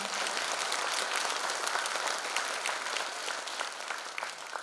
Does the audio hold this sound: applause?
yes